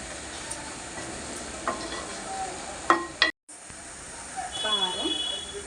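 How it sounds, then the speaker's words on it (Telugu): Garam masala powder stirred into a sizzling pan of gongura boti, a soft steady hiss with occasional spoon scrapes and clanks, a brief dropout midway, and faint talk in the background. "గరం మసాలా పొడి ఒక స్పూన్. ఇది ఒక్కసారి తిప్పేద్దాం"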